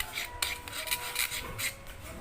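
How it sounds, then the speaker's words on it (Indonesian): Cutter blade scraping and smoothing a custom Yamaha MX King inner panel, a quiet steady rasping with repeated short strokes close by, no talk. "haluskan pakai cutter seperti ini aja"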